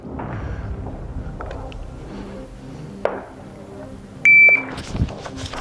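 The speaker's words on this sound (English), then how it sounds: "These are shot timers, and these are pretty good for trying to gather data and analyze how good or bad you're shooting" On a concealed-carry training range, a shot timer gives a short, sharp electronic beep, set among scattered clicks and handling noises, with a few louder knocks close by.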